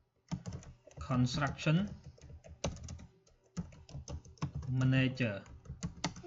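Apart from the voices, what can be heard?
typing on a computer keyboard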